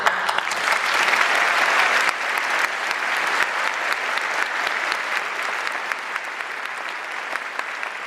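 Loud, sustained applause from an audience celebrating newly sworn-in lawyers at a courtroom swearing-in ceremony, dense steady clapping that slowly tapers over several seconds.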